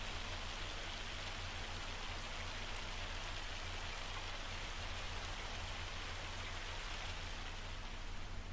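Steady rain in the farming game Farming Simulator 25, a dense, even hiss of falling drops with a low droning hum underneath, continuous and unchanging throughout.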